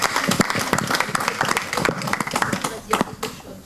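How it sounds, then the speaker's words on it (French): An audience claps after an interview, a lively mix of close and distant hand claps with crisp individual slaps, with people talking underneath throughout. "On peut applaudir Laurent."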